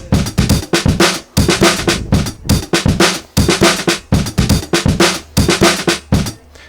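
A chopped-up funk drum break loops in punchy, rhythmic bursts of kick, snare and cymbal, with the slices cut into a new, slightly stuttering groove. It is loud and close, with no talking over it.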